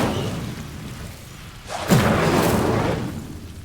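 Incendio fire spell cast in Hogwarts Legacy, a single loud whooshing burst that swells and then rumbles away, with no talk over it.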